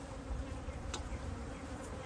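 Honey bees in a top bar beehive hum in a steady, soft drone, with a brief brighter buzz of a single bee passing close partway through.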